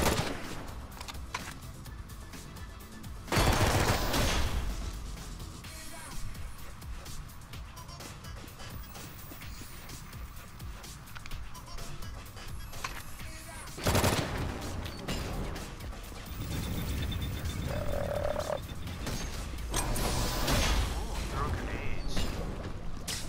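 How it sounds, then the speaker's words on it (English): Gunshots ring out in the video game Drawn to Death, with a few loud bursts of fire standing out against steady background game noise and some voices. "fire three rounds"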